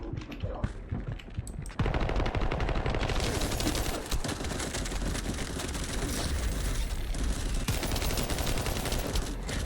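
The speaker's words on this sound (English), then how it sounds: "I'm just shooting up at the ceiling." Sustained automatic gunfire in The First Descendant, a shooter video game, fired up at a ceiling: after a few scattered shots, a dense, loud, continuous burst of rapid shots rattles on for most of the stretch with little pause.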